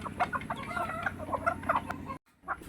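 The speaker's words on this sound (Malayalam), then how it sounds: "നമ്മുടെ കോഴികളുടെ കൂടെ കുറച്ചു നേരം ചെലവഴിക്കാമെന്ന് വെച്ചു" Chickens cluck continuously nearby, a busy overlapping chatter of short calls that breaks off briefly near the end before resuming.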